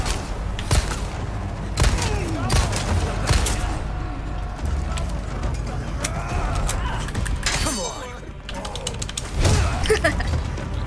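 Gunfire in the game Resident Evil 4 Remake, aimed at a pitchfork-wielding villager: several sharp, loud shots spaced irregularly among creaks, thuds and other in-game mechanical noises.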